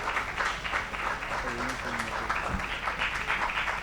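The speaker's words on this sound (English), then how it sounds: "give them a round of applause" An audience at a youth innovation awards ceremony claps continuously, a moderate, steady patter of applause under a faint voice.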